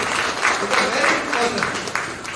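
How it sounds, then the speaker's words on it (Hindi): A short burst of loud applause and clapping from an audience at a company program event, dense and close, with a voice briefly audible under it. "जोरदार ताली।"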